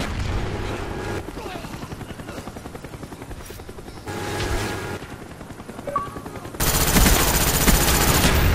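A Cobra attack helicopter in Call of Duty thuds overhead amid bursts of machine-gun fire and explosions, rotor chop steady under the battle noise, with a louder burst near the end.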